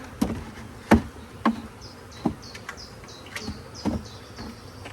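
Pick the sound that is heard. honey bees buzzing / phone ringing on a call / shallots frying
honey bees buzzing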